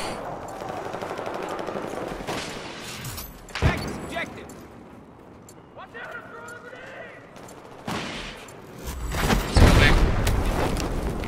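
A cruise missile strike in Battlefield 4 lands amid rapid gunfire, loud cracking shots and a heavy boom, with bursts of fire and people talking over the game sounds.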